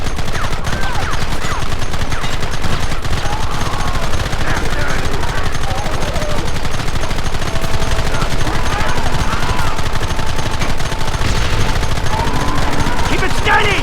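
Heavy gunfire rattles through a Red Dead Redemption shootout, with dense overlapping shots and machine-gun bursts that run continuously and loudly from start to finish, mixed with shouting voices.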